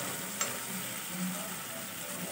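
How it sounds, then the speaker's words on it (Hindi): Pav bhaji vegetables with turmeric fry in a pan, a faint, steady sizzling hiss close by with one small clink near the start. "ये ऑलमोस्ट फ्राई हो गया है, टेस्ट होना शुरू हो गया इसका।"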